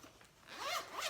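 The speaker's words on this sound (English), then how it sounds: "You hear that zipper? That's me breaking out some different pens." A zipper on a pen case is pulled open in a quick, close, scratchy rasp lasting about a second, rising at the end.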